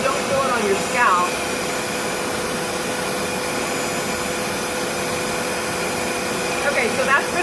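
A Revair vacuum hair dryer runs steadily on curly hair, a constant loud whooshing drone with faint brief rubbing swishes as the nozzle moves back and forth.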